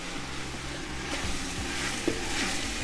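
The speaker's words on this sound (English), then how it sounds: "now we're going to stir in 6 ounces of tomato paste" Tomato paste is stirred into softened mushrooms in a pot for beef and barley soup, giving a steady low sizzle with soft scraping stirs and an occasional light knock of the utensil.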